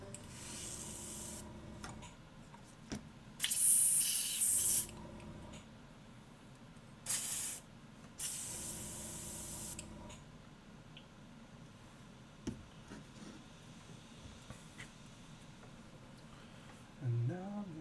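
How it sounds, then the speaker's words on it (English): An airbrush sprays paint in several bursts of steady hiss, the longest lasting over a second, with quiet pauses between them and faint background noise throughout. "Alexa, airbrush on."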